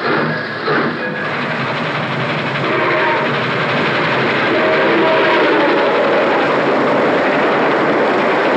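A freight train heading north from Edmonton rumbles along continuously with a loud, steady roar of wheels and cars, a brief whistle-like tone near the start.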